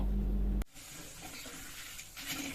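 Red chillies fry in a pan for puliyogare gojju, giving a soft, steady sizzle with faint stirring scrapes after a brief low hum cuts off.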